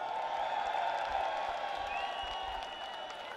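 A large outdoor crowd at a London street rally applauds and cheers Tommy Robinson, a steady wash of clapping and distant whoops, fairly loud and continuous.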